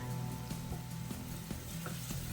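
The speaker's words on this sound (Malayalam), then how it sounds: "സവാള പെട്ടെന്നൊന്ന് വഴന്ന് കിട്ടാൻ വേണ്ടിയിട്ട് ഒരു അല്പം ഉപ്പ് കൂടി ചേർത്തിട്ട് നമുക്ക് വഴറ്റിയെടുക്കാം" Sliced onions with a pinch of salt sizzle steadily in a hot pan, a close, constant frying hiss with a few faint scrapes as they are stirred.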